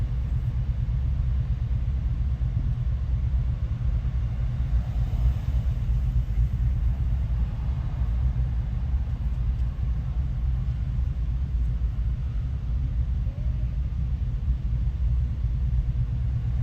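A Hemi V8 car rumbles steadily on the Las Vegas Strip in the evening, a deep, continuous low engine drone held close and loud from start to finish with no talk over it.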